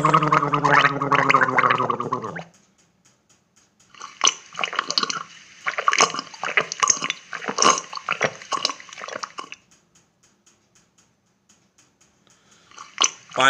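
Gargling and rinsing the mouth with water: a bubbly, throaty gurgle up close for a couple of seconds, then a long stretch of wet swishing and spitting splashes, a pause, and a brief burst of sloshing at the end, with no talk.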